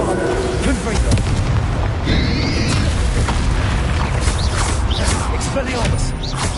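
The Confringo blasting spell in Hogwarts Legacy goes off with loud booming explosions and crackling magical bursts amid a dense, continuous duel soundscape, with a voice talking over the action.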